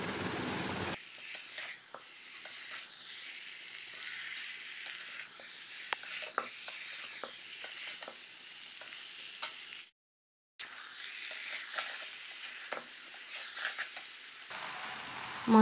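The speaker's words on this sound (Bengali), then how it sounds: "তো এইভাবে ভালোভাবে কষিয়ে নিচ্ছি।" Jackfruit and spices sauté in mutton fat, a soft, steady sizzle with scattered light spatula ticks and scrapes, fairly faint and continuous, with a short silent gap partway through and no voices.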